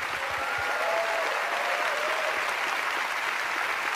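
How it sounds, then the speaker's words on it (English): A church congregation applauds during a sermon, a dense, steady wash of many hands clapping that holds at an even level for about four seconds, with no single voice standing out. "Somebody give God a big clap and a great shout."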